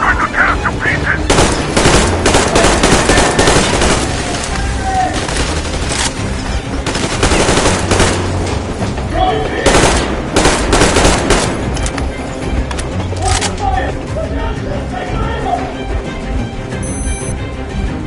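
Sustained gunfire in a Metro Exodus battle, loud and dense, with machine-gun bursts and overlapping shots forming a near-constant fusillade. Shouted voices come through under the shooting.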